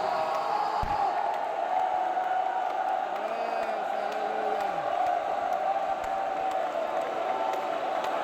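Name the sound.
congregation shouting at men's church conference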